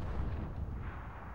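Enemy missile strikes in Call of Duty: Advanced Warfare multiplayer land as a low, rumbling boom that rolls on for a second or so, deep and muffled, with nobody speaking.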